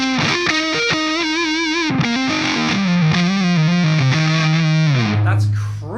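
An electric guitar on its neck pickup, mid switch up, plays through a SviSound Cockedzoid signature distortion pedal: thick, saturated sustained notes and chord changes ring loud and continuous before fading at the end.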